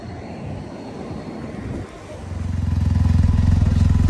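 A Can-Am Riker trike pulling away, a loose mechanical clatter giving way after a brief dip to a rising, loud, close engine drone that holds steady to the end.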